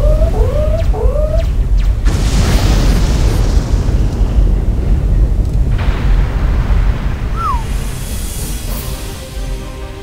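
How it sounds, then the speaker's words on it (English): Loud, booming explosions on a base in the video game Wing Commander Saga: The Darkest Dawn erupt one after another, a deep rumbling roar with sharp blasts and whistling tones layered over it. "Secondary explosions on the base."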